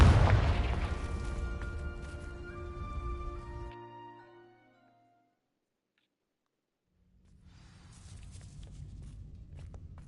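Confringo blasting spell in Hogwarts Legacy, a loud explosive boom with crackling debris that decays into near silence, followed by a low rumbling ambience.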